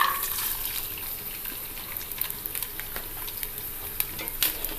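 Coconut pieces frying in about five teaspoons of ghee in a pan for Vishu rice payasam: a steady soft sizzle with crackling pops and occasional stirring scrapes, no voices.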